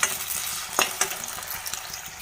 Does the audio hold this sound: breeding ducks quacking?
no